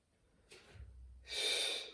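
Two soft breaths during a prenatal exercise routine for weeks 36 to 40 of pregnancy, a low inhale and then a longer airy exhale, close and quiet with no talking.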